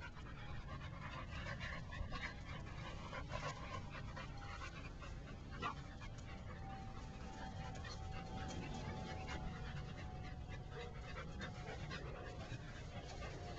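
Two very young dogs pant quickly and steadily nearby while wrestling, with soft scuffling, faint whimpers and small yips as they play.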